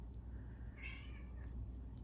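A cat meows once in the background, a faint, drawn-out call rising and falling over a steady low household hum, with no talking.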